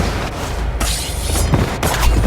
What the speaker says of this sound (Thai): ระเบิด แล้วก็ระเบิด